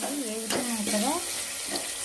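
Turmeric, curry leaves, peanuts, asafoetida and tomatoes fry in a pan with a soft, steady sizzle while someone speaks over it.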